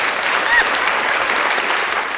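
Studio audience applause on a talk show about relationships, dense steady clapping that fills the short stretch at a loud, even level.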